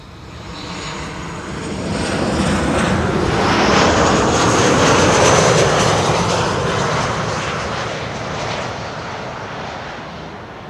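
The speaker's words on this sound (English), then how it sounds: "next up is KLM flight 1930, 737 arriving from Geneva" A KLM Boeing 737 arriving from Geneva lands at Schiphol, building from a distant whine into a loud rushing jet roar that peaks and slowly recedes, heard alone.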